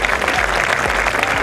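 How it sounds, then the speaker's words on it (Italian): Audience applause at a fashion event in Italy, steady dense clapping filling the whole moment at close range, loud and continuous with no pauses. "Grazie di cuore, l'applauso per lei!"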